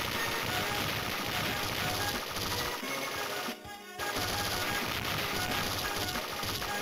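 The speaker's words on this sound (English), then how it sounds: "I do love how crunchy a lot of the explosion noises are" Crunchy, crackling explosions from the shoot-'em-up game DonPachi pile up in a dense, loud barrage alongside game music, with a brief dip midway before the blasts resume.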